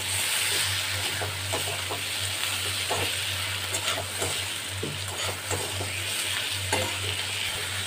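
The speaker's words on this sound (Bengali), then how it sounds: "এগুলোকে খুব ভালো করে মুড়োটার সাথে আমি ভেজে নেব।" A fish head frying in a pan with onion, tomato, ginger and garlic gives a steady close sizzle, broken by occasional scraping stirs; no one speaks.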